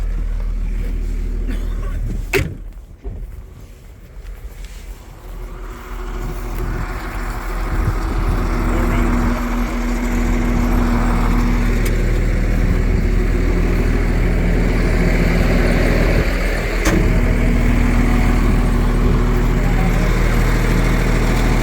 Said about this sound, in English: Oh, we get to go for a ride in the loader.